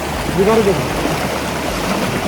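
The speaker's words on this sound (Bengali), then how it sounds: "বয়ে যাচ্ছে স্ফটিক স্বচ্ছ রঙ্গিত নদীর জলে" Clear water of the Rangeet river near Bijanbari in Darjeeling rushing over stones, a steady broadband wash that holds at an even level throughout, close and continuous, with no talking.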